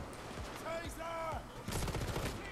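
Gunfire in the co-op heist video game Payday 2 on Deathwish difficulty: rapid bursts of shots rattle against game noise and chirping effects, loud and close.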